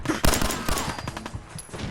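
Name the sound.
gunfire in the video game Fallout 4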